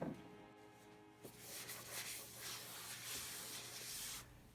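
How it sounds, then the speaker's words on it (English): Prep spray, a wax and grease remover, is sprayed onto a cracked vinyl dash of a Toyota Hilux pickup and wiped down: a steady close hiss and rubbing lasting a few seconds, with no talk. "I'm going to give it a quick spray and wipe down with some prep spray"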